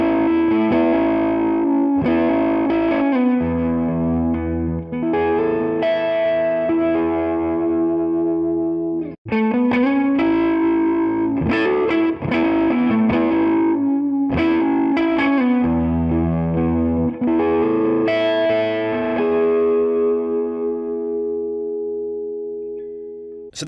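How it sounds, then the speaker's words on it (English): A distorted electric guitar on its neck pickup plays sustained chords and riffs with a warm, thick tone, loud and alone, ending on a ringing held chord. "Okay, so neck pickup first."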